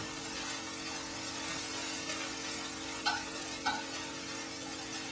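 Chorizo sizzling in a pan, a steady, quiet frying hiss with two small clicks of stirring near the end, and no talking.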